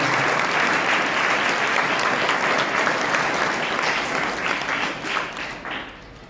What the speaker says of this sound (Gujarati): જોરદાર તાળીઓથી આપણે અભિવાદન કરીએ